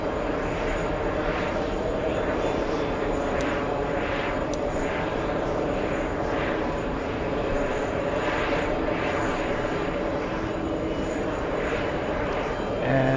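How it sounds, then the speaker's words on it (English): A JetBlue Airbus A321 jet on its takeoff roll, a steady, loud broadband engine roar that holds evenly throughout with no talk over it. "We'll go for the next takeoff. It's JetBlue. It's an Airbus A321."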